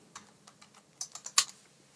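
Light keystrokes on a computer keyboard while naming a file in laser-engraving software, a handful of scattered clicks followed by a short quicker cluster, close and alone.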